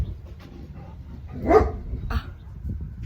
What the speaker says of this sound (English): my dog's barking